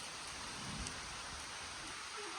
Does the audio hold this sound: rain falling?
yes